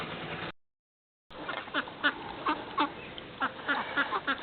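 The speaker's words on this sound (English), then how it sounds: "Saturday at the duck pond." Ducks at a pond quack in a run of short, fairly close bursts after a brief gap in the sound, with no one speaking.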